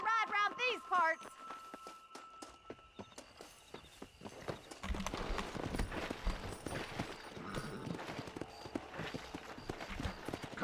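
Horse hooves clatter in a fast galloping rhythm in the Red Dead Redemption video game, loud and continuous after a brief musical opening, with a voice heard near the start.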